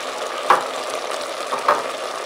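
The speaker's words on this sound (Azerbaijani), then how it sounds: "Və bir yerdə biraz da qızardırıq." Meat with chopped carrot and onion frying in a pan for chicken cream soup, a steady close sizzle with two brief stirring scrapes.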